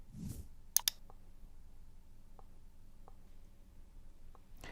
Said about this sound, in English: Now click the transition icon.